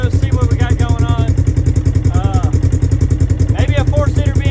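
A CF Moto four-seater off-road side-by-side fitted with an aftermarket exhaust runs loud and close, its engine throbbing in a steady pulse with mechanical clatter, while someone talks over it.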